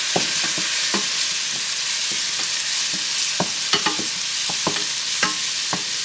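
Garlic sizzles steadily in a hot pan while a utensil stirs it, with a constant frying hiss broken by sharp, irregular scraping clicks from the stirring.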